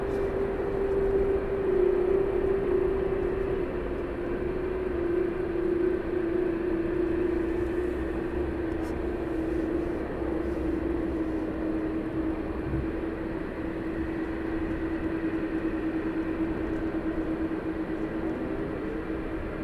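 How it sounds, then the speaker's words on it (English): Jet aircraft landing one after another at East Midlands Airport at night, a steady distant engine roar with a sustained whine that holds for the whole stretch, no voices over it. "I've got 1 on final, 1 turning base and 1 on downwind leg at the moment to land."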